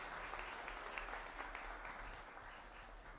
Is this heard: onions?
no